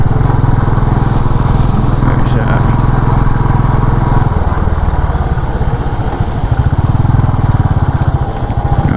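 A vehicle engine labours in first gear up a steep, rough mountain road toward Sach Pass, droning loudly and steadily, with its pitch shifting about midway and faint voices in the background.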